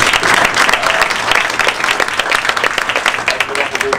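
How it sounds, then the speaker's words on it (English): Audience applause at an event hosted by the Secretary of the Interior, steady, close, full clapping from a crowd that fills the whole moment. "Let's give her a round of applause."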